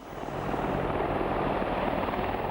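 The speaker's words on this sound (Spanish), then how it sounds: "Quizás el destructor de tanques más temible fuese el helicóptero Apache." An Apache attack helicopter roars overhead in a steady, loud, broadband rumble of engine and rotor that swells in over the first half second and then holds constant with no voices.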